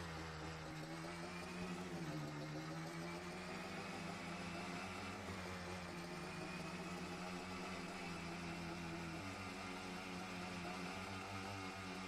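The Lizard Blaster 2000 quad from Farming Simulator 22 drives along a straight road, its engine giving a steady, even drone that holds constant pitch throughout with a slight dip in tone near the end.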